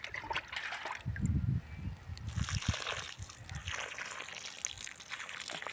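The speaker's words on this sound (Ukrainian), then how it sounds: "Зараз я їх позаливаю." Water is poured onto a freshly planted garden bed, giving faint trickling, sloshing and splashes against the soil, with some low handling noise early on.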